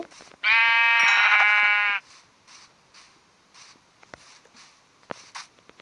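A Minecraft sheep lets out one loud, close, sustained bleat lasting over a second, followed by quieter in-game clicks and faint background sounds.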